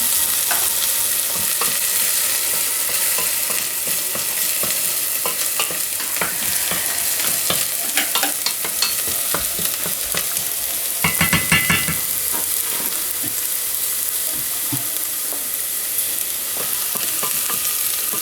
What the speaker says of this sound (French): on fait cuire en demi-heure la sauce comme ça